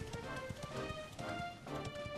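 Rhythmic clip-clop of horse hooves at a steady gallop in Dragon Quest XI, a repeating pattern layered over bright background music, loud and continuous.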